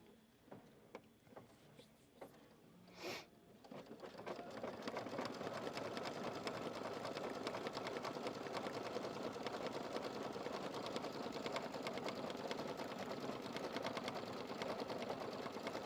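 Embroidery machine with its hoop lowered, stitching a decorative pattern at a steady, fast, continuous rhythm after a few light clicks and a brief voice at the start.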